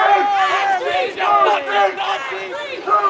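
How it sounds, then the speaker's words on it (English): A protest crowd in Providence, Rhode Island, shouts together in loud, rhythmic bursts of massed voices. The call-and-response chanting sits up close and rises and falls in waves. "The crowd is getting pretty riled right"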